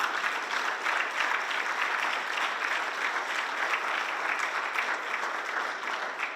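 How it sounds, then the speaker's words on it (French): Sustained applause from an audience gathered to congratulate someone, dense and steady throughout, fairly loud and even with no voices over it. "demander de l'applaudir encore une fois."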